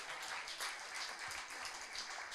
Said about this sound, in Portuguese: Então dê um aplauso bendito ao Senhor